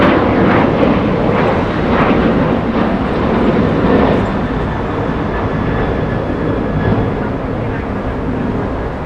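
Iberia airliner close to the listener at Los Angeles International Airport, a loud, rumbling jet roar that stays strong for several seconds and then eases slightly, with some faint voices underneath.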